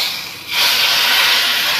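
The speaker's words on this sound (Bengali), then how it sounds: "তা ফোড়নটা একটু পোড়া পোড়া না হলে তো দিতে পারছি না, একটু পোড়া পোড়া হলেই ঢেলে দেবো" Hot, slightly burnt tempering is poured into a pot of khichuri. After a brief quiet moment it bursts into a loud, continuous sizzling hiss that holds steady to the end.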